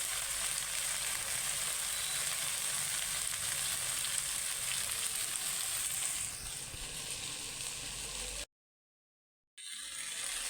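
Taro leaves cooked with a hilsa fish head sizzle in a pan, a steady close frying hiss that eases slightly, drops out into a brief silence near the end, then resumes.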